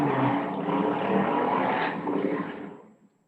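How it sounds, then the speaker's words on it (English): A car engine revving outside, a steady loud roar that holds for a few seconds and then dies away quickly. "Somebody's revving their car outside."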